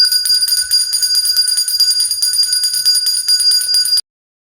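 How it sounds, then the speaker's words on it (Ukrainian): An electric school bell rings loudly and continuously for about four seconds, a bright metallic clangor with rapid rhythmic striking, then cuts off abruptly into silence. "На останній ваш урок прозвінить шкільний дзвінок."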